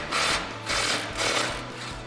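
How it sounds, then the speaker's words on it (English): Ratchet and 14mm socket working a bolt loose on a 2016-2021 Toyota Tacoma suspension during a lift kit install, three even buzzing bursts of rapid ratcheting, close up and moderately loud. "With that 14mm socket, remove the other bolt that you loosened completely."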